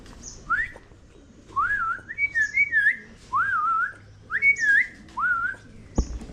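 Clear, warbling whistled calls repeat in short phrases over a quiet background, each a rising and falling note, near and fairly loud, ending with a soft knock.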